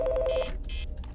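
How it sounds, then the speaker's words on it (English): A phone rings in the game Five Nights In Anime, sounding one clear electronic ring burst followed by a second, fainter one. "the phone is ringing"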